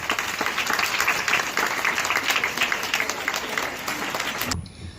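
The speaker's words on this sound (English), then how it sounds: "Please give him a huge round of applause." Steady applause from an audience at a school investiture ceremony, a dense patter of many hands clapping at even loudness before cutting off abruptly near the end.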